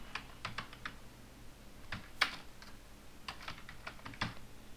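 Code being typed on a computer keyboard for an HTML registration form, in scattered soft clicks and short bursts of keystrokes, fairly close and quiet, with no talking.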